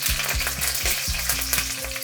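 Curry leaves and a slit green chili frying in hot oil for a chicken curry, a loud close crackling sizzle with spatters, alone with no talk.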